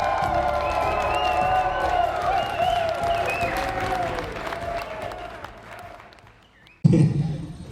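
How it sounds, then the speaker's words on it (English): Audience at a Rotary meeting breaks into clapping and cheering, a dense steady wash with whoops that gradually fades, then a sudden loud burst near the end. "Can we get a level 10 clap for each other right now?"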